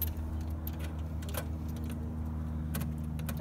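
Keys jangle and click in a lock as the door of a shower bus is locked, with a few faint metallic clicks over a steady low vehicle hum.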